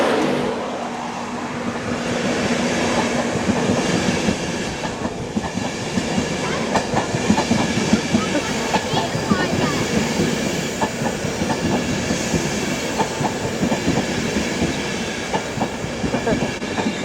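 A class 91 electric locomotive, 91101 in Flying Scotsman livery, passes through York station. Loud, continuous rolling rumble with rhythmic wheel clatter over rail joints lasts throughout.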